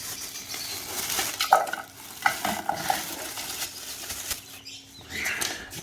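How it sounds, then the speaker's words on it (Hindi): Dry homemade chicken feed is poured and scooped into a bucket by hand in a series of rustling, pattering bursts with small clinks between them. The sounds are close and moderately loud, and no one speaks. "इसको हम डाल देते हैं इस बाल्टी में"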